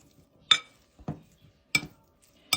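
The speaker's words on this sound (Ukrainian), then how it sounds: "Перемішуємо." A few separate clinks and scrapes of a spoon against a bowl while mixing a salad of boiled eggs, tomatoes and hard cheese, spaced irregularly, close by and fairly quiet.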